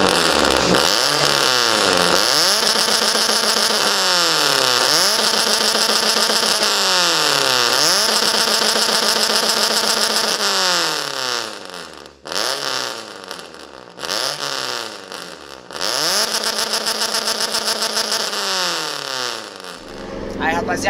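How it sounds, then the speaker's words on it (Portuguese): A Toyota Corolla with a loud aftermarket exhaust revs repeatedly, each blip rising and falling in a rumbling rhythm, with pauses and crackles between revs, heard up close. "vocês viram o ronco do carro, tá animal"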